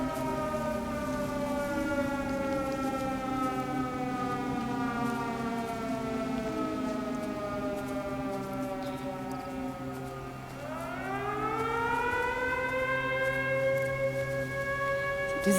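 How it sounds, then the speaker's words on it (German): A civil-defense-style siren wails across the countryside in the video game Everybody's Gone to the Rapture, a long sustained tone that dips and then rises again, heard alone with faint rain-like ambience beneath. "Diese Sirene, die, ich weiß gar nicht, Frank hatte die erwähnt"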